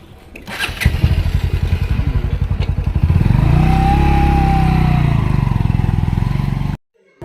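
A motorcycle starts up close by with a rapid chugging crank that catches into a loud, steady idle and a brief rev. The engine cuts off abruptly near the end, and no one talks.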